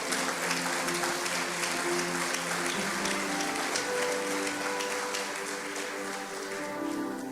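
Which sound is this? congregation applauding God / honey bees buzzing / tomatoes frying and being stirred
congregation applauding God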